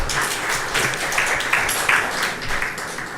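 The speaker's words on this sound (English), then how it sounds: "let's give another round of applause" Audience applause at a vaccine research forum, a steady dense patter of clapping from a roomful of people, moderately loud and continuous throughout.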